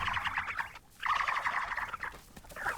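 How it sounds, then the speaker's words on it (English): Troodon dinosaurs in a video game trade rapid, high chirps, squeaky calls and giggle-like trills in close, busy bursts with a short pause near the middle. Nobody speaks. "we're using our sounds, our calls and chirps and giggles, to confuse the target"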